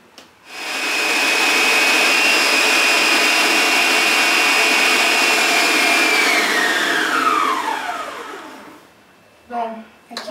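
An electric mixer at medium speed beats vanilla cupcake batter, a loud steady whine lasting several seconds before it spins down with a falling pitch, followed by a few brief clanks.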